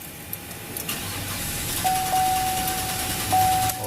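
A 2015 Chevrolet Silverado 2500 that is out of gas cranks without firing, a fairly quiet churning starter and engine sound with a thin steady whine that comes and goes.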